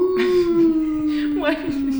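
A person imitates a wolf howl during a chiropractic adjustment, a single sustained, gradually falling voiced howl that lasts about two seconds, close and fairly loud, with a brief wavering break near the end.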